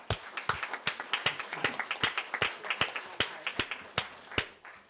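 Sparse, uneven claps ring out from a small audience applauding two people asked to stand, the individual hand strikes distinct and fairly close rather than merging into a roar.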